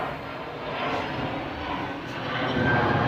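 A steady, broad roar from an aircraft passing overhead near Manchester Airport, moderately loud and swelling slightly toward the end, with no talk over it.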